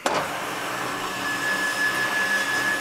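A used Hyd-Mech S20 Series 2 horizontal swivel-head bandsaw, 13 by 18 inch, starts up with a short thump and settles into a steady, loud motor whine and hum close by, with no one talking.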